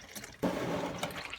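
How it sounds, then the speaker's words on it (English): Engine oil pouring from the drain hole of a 2003–2004 Ford Mustang SVT Cobra Terminator into a catch pan, a sudden steady liquid splash and trickle starting partway in and continuing close by without talk. "pull this away and catch the oil in the pan"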